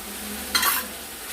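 Bowl-rinse water hits frying masala and tomatoes in a pan for a Bengali katla fish curry, giving one brief, close hiss and sizzle in an otherwise quiet kitchen.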